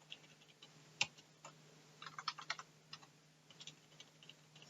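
Quick keystrokes on a computer keyboard during a cut and paste, heard as a few faint scattered clicks, one sharper tap followed by a short cluster of clicks, over a low steady hum.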